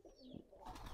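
Domestic pigeons in a home loft give soft, low throaty coos, one or two brief calls that are quiet and close, with no talking.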